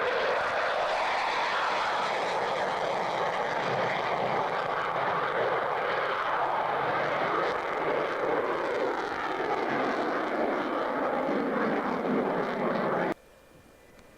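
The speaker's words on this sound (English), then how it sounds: "F-15 display." F-15 fighter jet on a display flyby, a loud, sustained broadband jet roar holding steady for about thirteen seconds before cutting off sharply into near quiet.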